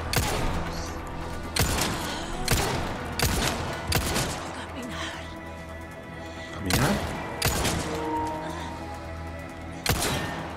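Loud, sharp pistol gunshots crack out at irregular intervals amid a dense, noisy Resident Evil 4 Remake soundscape with low rumbling underneath.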